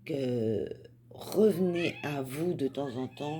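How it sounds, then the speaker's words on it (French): A cat meows repeatedly, wanting to go outside, with a drawn-out cry followed by several shorter wavering meows close by, while a person speaks over part of it. "Alors là, c'est le chat qui veut sortir."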